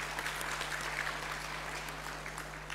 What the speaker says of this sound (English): please give a big round of applause to welcome him